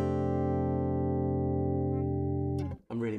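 Guitar run through six per-string compressors pushed hard, a sustained chord ringing with a chimey, bell-like tone that holds steady for over two seconds before cutting off into a brief scrape and a new attack.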